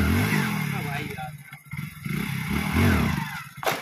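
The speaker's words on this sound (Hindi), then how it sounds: "तो गाइस पिकअप देखो बाइक का कैसे जा रही है" A Hero Splendor Plus BS7 2023 motorcycle pulls away and accelerates with a rising, revving engine note, heard close over clattering road noise before fading slightly, with a voice talking over it.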